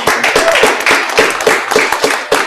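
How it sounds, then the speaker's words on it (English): An audience gives a round of applause for a school bus department head at a school district gathering, a loud, close burst of many hands clapping in quick uneven rhythm that continues steadily throughout. "Let's give her a round of applause of her."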